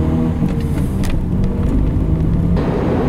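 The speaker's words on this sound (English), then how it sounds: "You can probably hear what a blowy exhaust I've got at the moment." A Peugeot car engine with a blowing exhaust runs nearby, a loud steady low rumble with a rough, breathy drone throughout.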